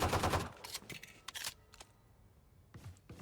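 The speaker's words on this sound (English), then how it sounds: "DJ, headshot through the smoke." Gunfire in the shooter video game Valorant during a collegiate match: a burst of loud sharp shots at the start, then scattered single reports and clicks, and a final pair of shots near the end.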